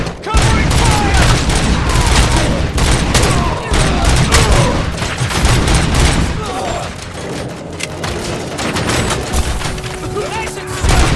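Heavy gunfire in the RoboCop: Rogue City video game during a bank shootout, dense loud bursts and booms filling the whole stretch, with shouted voices mixed in.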